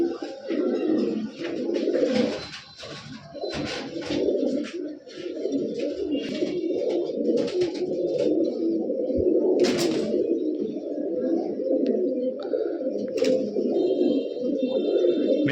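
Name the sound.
Giribaz and coloured pigeons cooing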